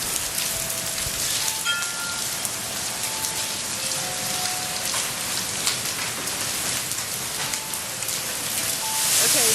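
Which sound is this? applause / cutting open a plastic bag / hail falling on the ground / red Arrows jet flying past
hail falling on the ground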